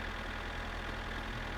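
Tractor engine in the video game My Summer Car running steadily, a continuous low rumbling drone with a faint knocking pulse, close and constant with no talk.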